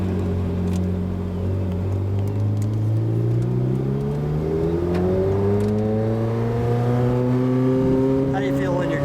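A 2015 Ferrari 458 Speciale engine runs steadily and then climbs in pitch as it revs, loud and close-up, with the engine note holding constant throughout under faint cabin noise.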